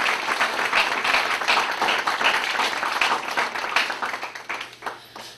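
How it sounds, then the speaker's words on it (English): An audience claps for students about to give presentations, a lively burst of many hands applauding close by that keeps going strongly, then thins and fades out near the end. "So if we could just give them a round of applause beforehand, that'd be great."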